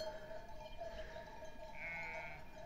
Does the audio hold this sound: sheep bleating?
yes